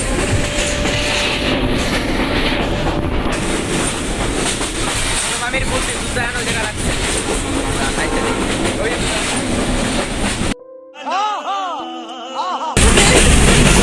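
A crowded passenger train rumbles along the tracks with rhythmic clattering wheels and rattling carriage noise, loud and close, while people talk over it; the roar cuts out briefly near the end with tonal squealing before returning.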